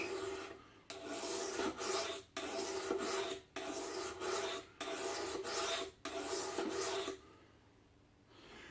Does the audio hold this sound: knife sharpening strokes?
yes